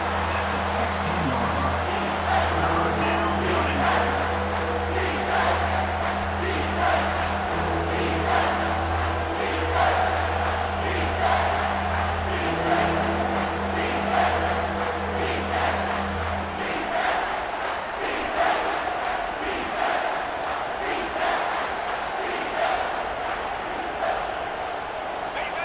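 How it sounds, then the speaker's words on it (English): A stadium crowd in the video game EA Sports College Football 25 roars continuously and loudly, a broad wash of cheering under a commentator's voice and low droning tones that cut out partway through. "this crowd is tearing the lid off this place"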